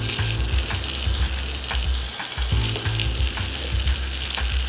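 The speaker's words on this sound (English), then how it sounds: "Nice little sizzle happening here." Tuna sizzles loudly as it sears in a hot pan, a steady crackling fry with occasional scraping stirs and clicks.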